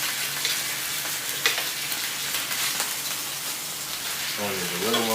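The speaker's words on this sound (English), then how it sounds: "I just want a nice little looking brownish bacon sear going on" Pork belly searing in a hot pan, a steady, close sizzle and crackle of fat that holds throughout, with a faint voice near the end.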